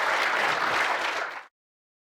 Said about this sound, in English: can you give Max, Jacques, Mbai, and Damien a big round of applause?